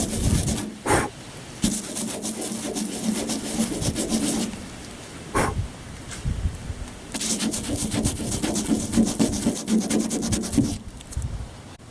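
Coarse 80 and 60 grit sandpaper scrubs rust off a car roof in bursts of steady rasping strokes, separated by brief pauses and a few sharp knocks, close and fairly loud.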